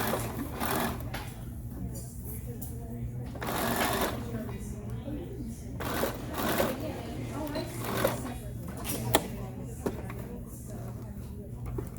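A sewing machine stitches a shirt collar close by, its motor running in a steady whirring drone with rhythmic needle clatter that speeds up and eases off, while a person talks over it.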